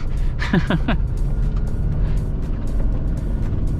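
A car drives on a slippery wet clay track in the Otways, a continuous loud low engine rumble with a few sharp rising squeals early on, close and steady throughout.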